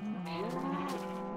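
Cattle in a farming video game moo in a long, drawn-out call that bends in pitch, loud and close throughout with steady game background beneath and no talk.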